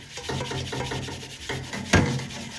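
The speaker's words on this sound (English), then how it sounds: "keep on scrubbing this right here" Close-up scrubbing of a burnt stainless steel pot, a steady rhythmic rasping rub with brief pauses and one sharper scrape near the end, no talking.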